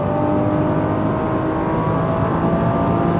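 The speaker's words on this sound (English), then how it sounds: "Open the wheel and add throttle. Full throttle. Nice. Let it rev up." A Nissan GT-R engine at full throttle on a driving course, a steady, loud, sustained roar with a continuous engine tone throughout and no talking over it.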